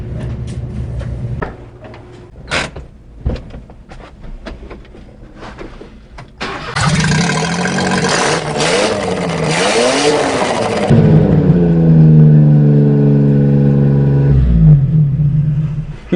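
A mini truck with its exhaust cut off, clunking and cranking before the engine catches and roars loudly, then revs hard in rising and falling sweeps before settling to a rough, open-piped idle close by.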